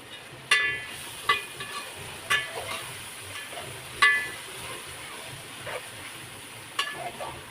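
Finely chopped tomatoes sauté in oil for Maharashtrian misal pav, a soft sizzle under sharp clinks of a spoon against the pan at irregular intervals.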